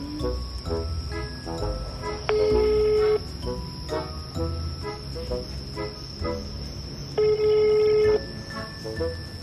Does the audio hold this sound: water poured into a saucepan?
no